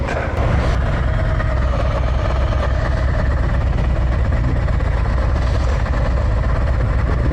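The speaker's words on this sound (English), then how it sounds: "we got his Tri-Glide fired up, and so we're fixing to hit the road" A Harley-Davidson Tri Glide trike engine running on the road, a loud, constant low rumbling drone with rushing wind and no break throughout.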